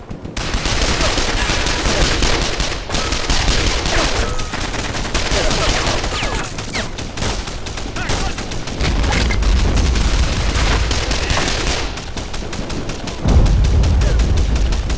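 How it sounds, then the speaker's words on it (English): Dense machine-gun bursts and booming field-cannon fire fill a war video game battle, with rapid overlapping shots and heavy thumps rattling on continuously, loud and close. "Looks like a field cannon opened up on me. Multiple MGs."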